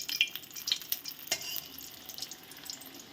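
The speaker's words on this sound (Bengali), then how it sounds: "তো ভাজা হোক" Mouri pitha coated in sesame frying in hot oil gives a soft, steady sizzle with small crackles and pops, faint and close, with no voices.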